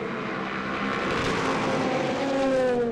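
Porsche and Aston Martin race cars in the European Le Mans Series at Le Castellet pass close together, nose to tail, their engines a loud, continuous roar with rising and falling pitch as they go by.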